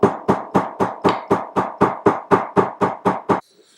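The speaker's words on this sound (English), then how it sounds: "we're going to hammer this down." A hammer strikes a folded nylon strap thirteen times in a steady, even rhythm, each blow a crisp, loud, close thud with a short decay, then stops and leaves near silence.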